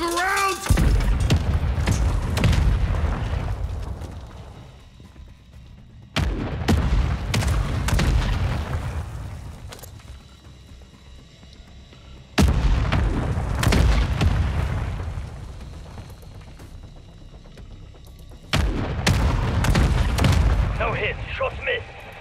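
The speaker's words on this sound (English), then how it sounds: "Mortar strike inbound now." Mortar strike explosions in Call of Duty Modern Warfare III Zombies: four heavy booming blasts spaced several seconds apart, each with a long rumbling decay, loud and close, with game voices in between.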